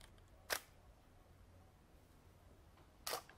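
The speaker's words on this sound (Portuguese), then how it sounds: "a cortina do obturador" Two sharp shutter-curtain clicks from a camera, one opening and one closing about two and a half seconds apart, crisp and close against a quiet background.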